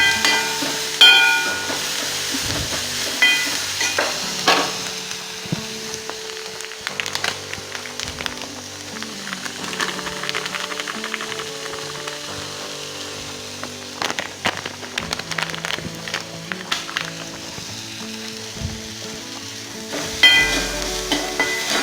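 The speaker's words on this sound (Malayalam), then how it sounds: "ലൈറ്റായിട്ടൊന്ന് ഫ്രൈ ആയിട്ടുണ്ട്" Sweetened flattened rice (aval) frying lightly in a pan on a home stove, a steady close sizzle with crackling pops and occasional scrapes of stirring throughout.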